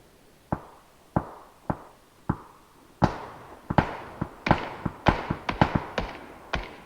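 Gunfire in a PC shooter game sounds as sharp single reports, first spaced about every second, then quickening into a dense irregular volley of close cracks with no talk over it.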